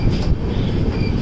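A Konkan Railway passenger train runs through a tunnel, a loud, enclosed low rumble and roar of wheels and carriages heard from inside the train, steady throughout with no voices.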